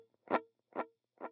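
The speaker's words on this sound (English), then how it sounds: "First is a dotted eighth note delay." Electric guitar through a dotted eighth note delay set to a medium mix with about eight or nine repeats, playing three distinct notes about half a second apart, each ringing with a short smeared tail of echoes.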